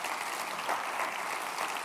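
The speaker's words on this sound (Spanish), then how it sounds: "Denle ese aplauso al Rey bendito." A church congregation claps in a brief burst of dense, even applause that lasts under two seconds.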